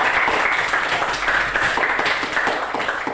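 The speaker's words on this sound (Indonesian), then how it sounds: "tepuk tangan untuk kita semua ya" A classroom of students claps for their test results, a brisk, close run of many hands with no voices over it.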